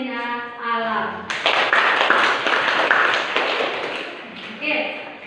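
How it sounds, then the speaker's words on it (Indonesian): A classroom claps for a student group after their presentation, with several seconds of lively, many-handed applause. A voice speaks briefly just before the clapping and again as it fades. "Ibu ingin beri aplaus untuk kelompok fenomena alam"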